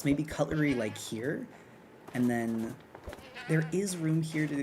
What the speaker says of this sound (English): I just keep hearing the goat making noises in this.